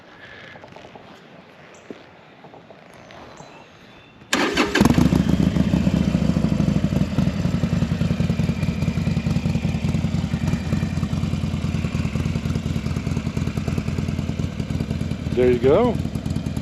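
A 2020 Harley-Davidson Iron 1200 Sportster with Vance and Hines staggered dual exhaust and fuel controller starts up after a quiet moment and settles into a loud, loping, rhythmic idle close by, with a brief word spoken near the start.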